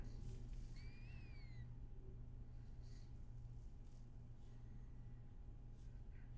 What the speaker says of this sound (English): Is the kitten on your desk?